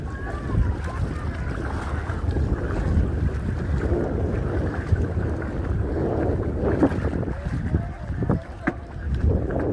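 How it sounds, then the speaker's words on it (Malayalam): A boat carries passengers back across the water from Sambranikkodi Island, its steady low engine rumble and wind buffeting continuous throughout, with voices faintly mixed in. "അപ്പോൾ ഇനി നമ്മൾ അടുത്ത ബോട്ടിൽ വെള്ളത്തിൽ കയറി നമ്മൾ തിരിച്ചു പോവുകയാണേ."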